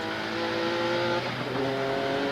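Jaguar XJ220C GT-class race car, the Le Mans class winner, with a loud, sustained engine drone whose harmonics shift slightly in pitch as it holds speed, steady and close throughout.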